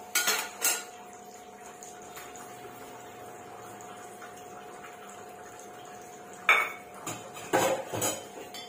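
A metal milk pot being scrubbed clean in a home kitchen, with sharp clanks and scraping clusters at the start and near the end, separated by a long stretch of low steady background hum.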